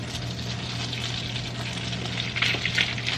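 Cornbread batter sizzles and crackles softly in a hot buttered pan, a steady frying hiss with brief bursts of louder popping near the end.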